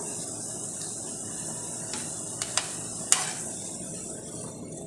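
Onion and meat cook together in a pan, giving off a steady, low sizzling hiss broken by a few sharp clicks and pops near the middle.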